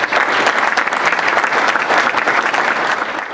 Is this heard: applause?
yes